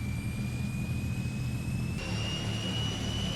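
Transall C-160 military turboprop transport engine in Microsoft Flight Simulator, a loud steady drone with a deep low rumble and a high whine that shifts pitch slightly partway through, continuous with no talk.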